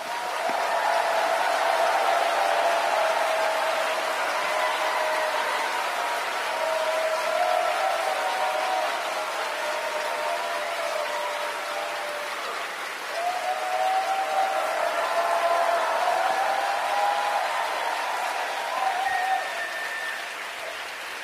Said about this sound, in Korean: 큰 박수로 목사님을 모시겠습니다.